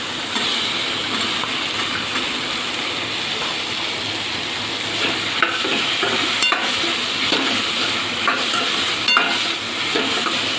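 Potatoes stirred in a hot frying pan for a dry guar bean and potato curry with tomato, a constant close sizzle broken by scraping stirs and occasional clinks, with no talking.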